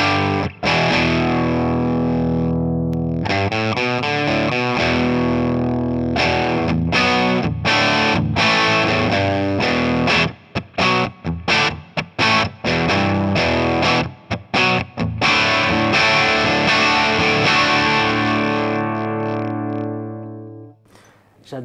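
Electric guitar through a Marshall Plexi amp simulation with a crunchy tone, chords and riffs played continuously with brief pauses near the middle, ringing out at the end.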